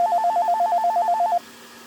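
Satellite phone call tone: a rapid, evenly pulsed electronic trill repeating steadily for over a second, then cutting off, leaving faint background hiss.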